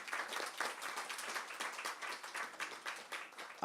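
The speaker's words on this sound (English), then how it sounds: "Let's give them all a round of applause." Applause for housing aid organizations at a Baltimore mayoral announcement on senior housing upgrades, a quiet, fairly thin patter of clapping from a modest gathering, steady for a few seconds before cutting off.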